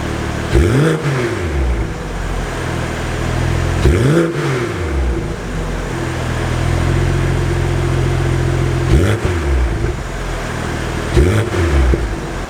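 A 2022 BMW X3 M40i engine with stock exhaust revs up sharply three times, each burst climbing and falling back to a steady idle, loud and close with no talking.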